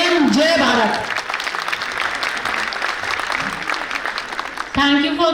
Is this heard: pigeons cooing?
no